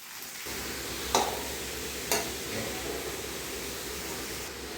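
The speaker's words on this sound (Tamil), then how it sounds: "அதை அதில் போட்டு ஃப்ரை பண்ணி விட்டுக்கோங்க. நல்லா வதங்கணும்." Long-sliced onions frying in oil for a Kerala-style egg roast, a soft, even, continuous sizzle with two brief scraping clinks of a spatula against the pan.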